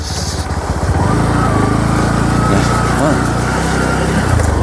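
A small motorbike engine runs steadily and loudly nearby, a buzzing, rattling drone holding throughout with slight rises in pitch.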